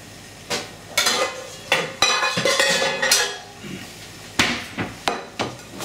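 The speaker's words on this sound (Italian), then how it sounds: "Nel frattempo che tagliamo la melanzana possiamo anche già mandare l'olio." A knife chops through eggplant into chunks on a cutting board in a series of irregular knocks and thuds, with light clatter between strokes and no talking.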